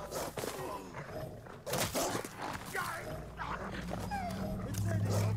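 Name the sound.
dogs barking in video game Ghost of Tsushima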